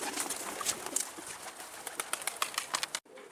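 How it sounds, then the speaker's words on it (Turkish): Dense fluttering and cooing of many pigeons close by, a busy continuous flock noise with wingbeats and calls, cutting off abruptly near the end. "Kuşlar içeri giriyor."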